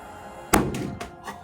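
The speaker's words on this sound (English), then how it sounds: "Oh, that was a loud explosion of acetylene gas." A homemade acetylene gas cannon, fueled by calcium carbide reacting with water, fires with one sharp close thump and a short rumbling tail, followed by a couple of fainter knocks.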